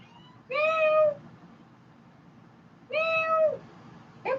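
A cat meows twice, loud and close, each call drawn out for about half a second with a long pause between, then a third meow starts at the very end; no one speaks.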